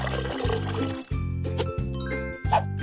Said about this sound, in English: Let's fill the tub.